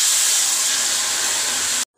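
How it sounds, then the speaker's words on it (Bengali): Hot water poured into a frying pan of fish curry gives a loud, steady hissing rush of steam that lasts almost two seconds and then cuts off sharply, with no talking. "সেই গরম জলটা দিয়ে দেবো।"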